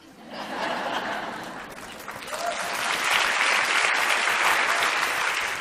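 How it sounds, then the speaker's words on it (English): An audience applauds at a talk, steady dense clapping that swells slightly midway and holds loud throughout, with a few chuckles mixed into the crowd. "I wish that didn't get an applause."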